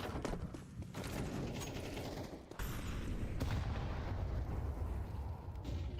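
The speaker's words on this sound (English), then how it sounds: "Ooh, nice nade here." A grenade blast in a Counter-Strike match rings out loud, then rumbles through dense, continuous game noise, with another sharp burst partway through and no clear talking.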